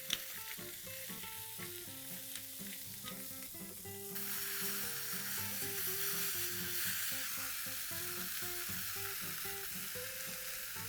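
Boiled green peas stirred into a paneer mixture in a pan, a steady sizzle with scraping stir sounds running under background music, growing fuller partway through.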